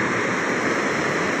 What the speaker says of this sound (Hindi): और ये पानी का प्रेशर चेक करो यार आप एक बार